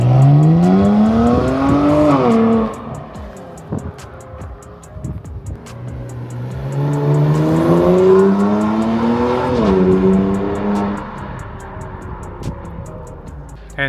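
A Kia Stinger with catless downpipes pulls away in two loud revving surges, the engine note climbing and dropping through gear changes, with a raspy turbo exhaust roar and brief quieter lulls between pulls.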